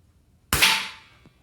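A single sharp crack from a Marlin 795 rifle, close and loud, with a short decaying tail and a faint echo just after.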